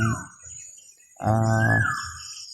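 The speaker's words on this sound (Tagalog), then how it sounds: "Yung ibon na yan ba, naririnig nyo ba mga tol?" A bird calls twice, a brief cry and then a longer, harmonically rich call, heard clearly against a quiet background.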